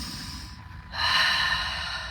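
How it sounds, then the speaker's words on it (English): One person takes a deep breath in through the nose and lets it out through the mouth, a close, sharp inhale followed by a louder, longer breathy exhale. "I learned how to breathe on purpose, deep breathing, in through your nose,"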